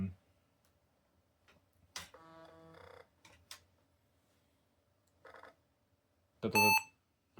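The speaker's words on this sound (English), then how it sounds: "Why does it beep every boot?" An IBM ThinkPad 390e laptop fitted with an SSD beeps once at boot, bright, loud and close, after quieter mechanical whirring and clicks of the machine starting up.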